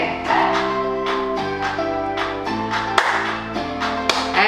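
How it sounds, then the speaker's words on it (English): Hand claps during an exercise routine for women over 60: a series of sharp, fairly evenly spaced claps over steady background music, up close and moderately loud. "And clap."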